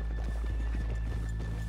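Horse hooves in the video game Red Dead Redemption 2 clip-clop in a quick, uneven rhythm over a steady low rumble and faint electronic tone.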